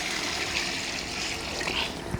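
Water poured into a biryani pot, a continuous close trickling splash with steady gurgle, brief and unbroken.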